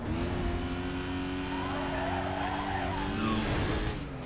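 Police car in the Need for Speed Carbon racing game skidding with tire squeal and crashing into walls, a continuous loud engine drone and scraping under sustained motion, no talk over it.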